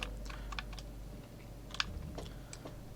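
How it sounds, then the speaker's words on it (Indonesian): Computer keyboard keys are pressed for shortcuts during 3D modeling: soft, quiet clicks in a few small bursts and single taps over a low background hum. "kita pencet shift, pilih salah satu gigi, dan kita pencet Ctrl J"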